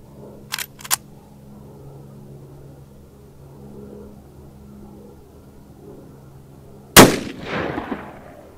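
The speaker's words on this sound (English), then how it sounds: "Let's shoot it out of the 16-inch Rossi M92 into bear gel." Two sharp .357 Magnum shots from a 16-inch Rossi M92 lever-action carbine firing Fiocchi 125-grain XTP rounds into ballistic gel: a close pair early on, then a much louder shot with a lingering decay.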